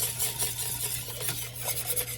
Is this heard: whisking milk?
yes